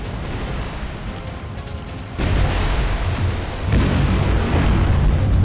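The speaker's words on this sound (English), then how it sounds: "She's getting lots of secondary explosions." Cruiser shell hits and secondary explosions rumble in a naval war video game, a dense continuous low roar with two heavier booming swells, loud and close, with no speech.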